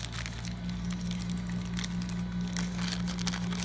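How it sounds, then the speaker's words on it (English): A small plastic bag crinkles nearby in scattered bursts of crackle over a steady low hum, picked up while sorting parts into a bucket for the tailpiece. "grab another one of my handy dandy little plastic bags"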